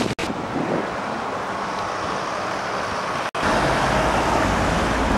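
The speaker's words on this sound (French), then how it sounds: "Beaucoup de vent aujourd'hui." Strong wind outdoors in Vienna's Landstrasse district, a steady broadband roar buffeting the microphone with a faint traffic wash beneath, briefly cutting out twice before returning louder.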